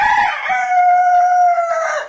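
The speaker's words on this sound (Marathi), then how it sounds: "इकडे आपली कोंबडी आहेत." A rooster among backyard chickens at a Konkan home in Devagad crows once, loud and close, in one long drawn-out call that fills the whole moment.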